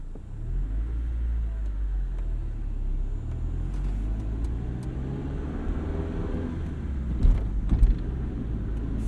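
A 1995 Honda Civic Si's engine hums and rumbles steadily from inside the cabin while driving, with a low throaty drone, faint creaks and a couple of brief louder bumps near the end.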